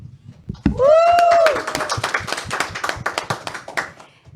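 A small audience claps to welcome a speaker at a faith gathering, a sparse, uneven run of nearby hand claps that starts after a brief whistle-like tone and tapers off.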